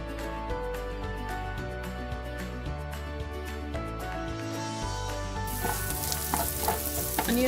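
Onions sizzle and fry steadily in a pan as they brown, a continuous crackling hiss with occasional stirring, growing brighter and louder toward the end.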